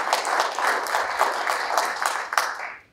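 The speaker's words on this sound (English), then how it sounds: "Let's give our elected officials a round of applause." A steady wash of audience applause for elected officials at a fall legislative breakfast, many hands clapping evenly for about three seconds before it fades out.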